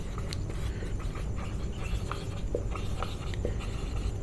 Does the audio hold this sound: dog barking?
no